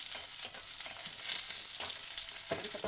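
Curry leaves hit hot oil over browned onion, crackling in a steady dense sizzle with brief spattering bursts near the end, close and continuous, no voices.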